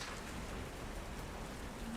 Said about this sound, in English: Oh, at least let's get rid of this rain business